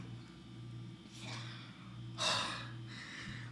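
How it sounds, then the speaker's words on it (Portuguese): Heavy, snoring-like breathing from a gamer just after beating an extreme demon level in Geometry Dash: a few rasping gasps and snorts at close range, with one louder breath in the middle. "por que que eu tô roncando"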